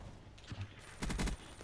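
Submachine gun bursts in the video game Call of Duty Black Ops 3, one quick rapid burst of several shots after a brief earlier shot, quiet and heard over faint game ambience.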